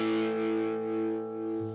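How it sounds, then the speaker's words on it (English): A Dirty Visions Effects Lava Box guitar distortion pedal produces a loud, sustained, buzzing distorted chord that rings steadily and fades slightly, with a shift in tone near the end. "This is a Dirty Visions Effects Lava Box."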